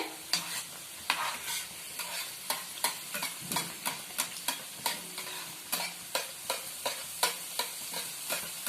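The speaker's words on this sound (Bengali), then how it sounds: "এইটা অবশ্যই ডিপ ফ্রাই করতে হবে নইলে কিন্তু ভিতরটা কাঁচা রয়ে যাবে" Egg paneer moglai is deep fried in oil, with a constant sizzle and rhythmic, evenly spaced spoon strokes as hot oil is scooped over the top, close and clear with no voices.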